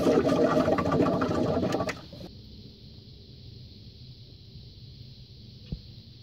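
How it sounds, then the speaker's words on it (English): Hand pressure tester pumped onto a car radiator on an engine with a blown head gasket, a rapid close rattling pump action for about two seconds, then a quiet steady hiss with one faint knock. "Gonna put some pressure in the radiator."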